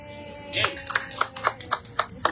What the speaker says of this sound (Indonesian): Tepuk tangan dong, Ren.